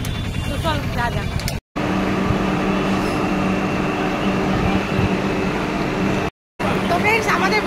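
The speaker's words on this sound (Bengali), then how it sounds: "আমাদের বন্দে ভারত এক্সপ্রেস চলে এসেছে" A Vande Bharat Express train pulls into a station with a loud, continuous low rumble and whooshing roar. Two abrupt dropouts break the sound, and voices are faintly audible nearby.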